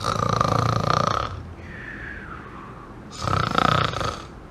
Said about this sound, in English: except when you hear him snoring in his office